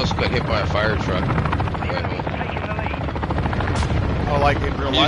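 Loud helicopter rotors thump steadily throughout a Modern Warfare III match, sitting under continuous overlapping player chatter.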